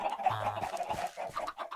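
Chickens on a Minecraft chicken farm in version 1.19 cluck in a busy, overlapping stream of short calls that runs on for nearly two seconds, with no talk over them.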